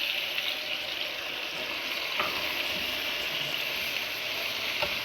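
Tomatoes hit a hot pan of browned onions, garlic and ginger while a biryani is cooked, making a steady, loud, close sizzle and frying hiss that carries on evenly with a few faint stirring clicks.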